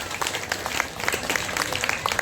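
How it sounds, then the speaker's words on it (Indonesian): Brief, moderately faint scattered clapping from an audience at a cremation ceremony drama gong performance, individual claps standing out as an appreciation for the gamelan players. "tepuk tangan penabuh hebat"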